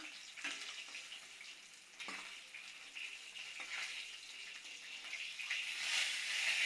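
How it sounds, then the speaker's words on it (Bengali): Hilsa fish frying lightly in a pan gives a soft, steady sizzle that builds gradually, with faint scrapes and clinks of stirring rising above the hiss. "বেশি ভাজি নেই, হালকা করে ভাজছি।"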